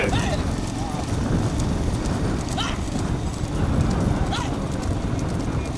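Hooves of racing bulls pulling bullock carts pound through a loud crowd at a bullock cart race in Soorankudi, Thoothukudi district, under continuous shouting and commentary.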